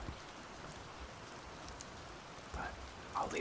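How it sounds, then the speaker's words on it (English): Steady rain falls outside a window, a soft continuous patter with a few slightly louder drops near the end, heard quietly with no talking. "so you can keep listening to the rain as you sleep"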